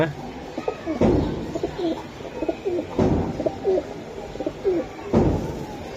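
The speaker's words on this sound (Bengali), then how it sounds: "এটা কবুতর হচ্ছে নর কবুতরটা" Several giribaz pigeons, including a male, coo in repeated low throaty phrases close by, over a steady background, with a few sharp knocks or wing flaps in between.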